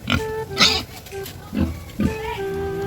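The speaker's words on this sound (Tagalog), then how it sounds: "ibibigay na natin ngayon yan doon sa ating baboy na si Pamni" A pig grunts and oinks in several loud, close bursts while being given feed mixed with a calcium supplement, with a voice talking over and between the grunts.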